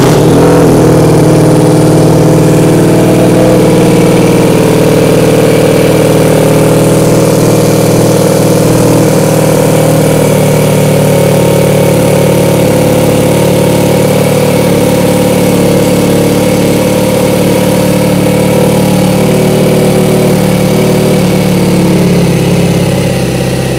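A 2022 BMW R nineT Option 719 motorcycle fitted with a Werkes exhaust idles at about 1500 RPM, a loud, steady, close low rumble that continues unbroken with no talk.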